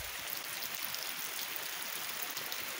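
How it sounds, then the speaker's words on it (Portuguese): Steady rain falling on a farm in a soft, even hiss with fine patter on surfaces, fairly quiet and unbroken throughout. "mas enfim, a chuva chegou"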